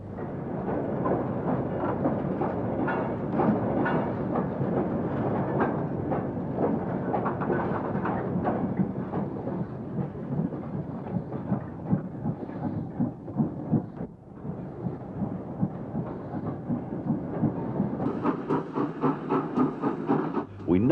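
An ex-LNER Peppercorn A1 Pacific steam locomotive passes at High Dyke with a heavy, continuous rumble that grows more rhythmic and pulsing toward the end.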